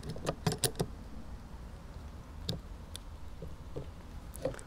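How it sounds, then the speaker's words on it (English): A scope slides onto the integrated 11mm rail of a Umarex / Hämmerli 850 AirMagnum air rifle. A few quiet, close metallic clicks and scrapes come in a brief cluster, then scattered faint taps against a quiet room. "You just put the scope on it."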